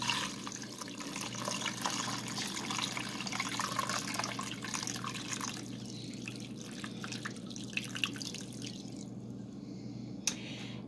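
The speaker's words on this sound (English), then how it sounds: "And I'm going to put some water in it." Water streams steadily into a pot holding a frozen beef roast, a continuous rushing splash whose tone shifts as the pot fills, then tapers off near the end with a few light drips and clinks.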